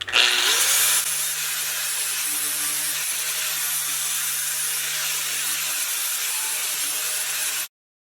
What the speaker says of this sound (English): I'm just going to use a worn out flap disc. That way I'm not taking away too much material. I'm just taking off rust and paint.